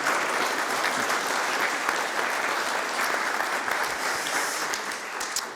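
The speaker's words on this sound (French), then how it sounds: "Je pense qu'on peut les applaudir." A crowd at a civic assembly installation ceremony in Évry-Courcouronnes gives sustained, dense applause that stays loud throughout and eases off slightly at the very end.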